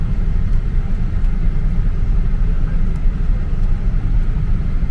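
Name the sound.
cars moving on highway traffic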